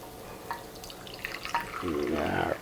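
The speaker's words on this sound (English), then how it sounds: "we're just going to pour this right into here" Cooking liquid from a Thanksgiving dinner is poured into a container, with a splashing, gurgling pour swelling near the end over quieter kitchen clatter.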